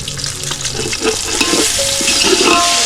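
Village chicken with salt and turmeric is stirred in a pot over a wood-fired stove, a loud, close, continuous sizzle with wet churning and scraping throughout.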